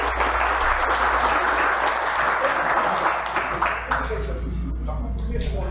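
An audience at a public hearing breaks into dense, sustained applause that gradually thins toward the end, with a low steady hum underneath and voices murmuring as it fades.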